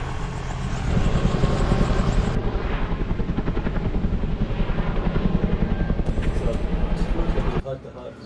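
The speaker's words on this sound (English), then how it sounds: "Helicopters are filling up with water here for the fires, right at the resort." A firefighting helicopter's rotor thumps steadily and loudly throughout as it fills with water at a resort near wildfires, with engine whine above, before the noise drops off abruptly near the end.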